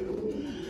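A single soft, low racing pigeon coo, close and brief.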